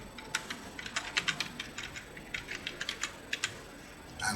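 Computer keyboard keys tapped while typing a password, a quick irregular run of light clicks, fairly close and quiet, with brief pauses between bursts and no voice.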